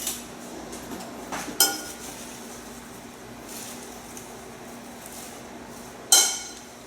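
Bean soup ingredients being mixed in a bowl, with a soft ongoing stirring rustle broken by a few sharp clinks of utensil against dish, the loudest two standing out clearly near the start and end.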